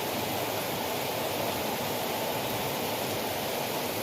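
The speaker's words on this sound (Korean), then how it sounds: "시원한 비 오는 장면을 올려드립니다" Steady rain falls in the countryside, a dense continuous hiss of drops that stays even and moderately loud throughout, with no voices or other distinct sounds.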